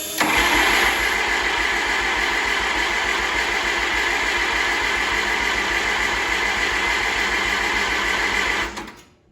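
A worn Oliver 550 tractor engine cranks without catching after a carburetor adjustment, a loud, steady mechanical churn running about eight and a half seconds close up before cutting off.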